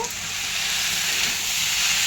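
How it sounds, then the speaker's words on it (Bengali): Pasta frying in a pan gives a steady, close sizzle that holds evenly for about two seconds, with no voices over it. "এই দেখো পাস্তাটাকেও ভাজা ভাজা করে নেব।"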